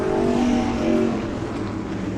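Sportsman modified race cars roaring around Lee USA Speedway in a close pack, a loud sustained engine drone with shifting pitch as the field runs side by side.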